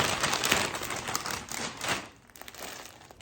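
A plastic clothing package is torn open and handled, giving continuous close crinkling and rustling with bursts of crackle that ease off toward the end.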